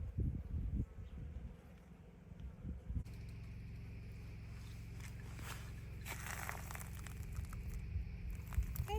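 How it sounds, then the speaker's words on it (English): Bees buzzing close around a building roof outdoors, a steady droning hum with scattered flyby swells, joined by rustling and footstep-like knocks. "Whoa, the bees came right out at me."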